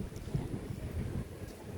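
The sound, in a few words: strong wind outdoors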